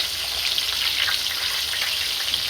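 A steady, dense hiss and crackle of fish frying in hot oil in a pan, continuous and fairly loud, with no voices.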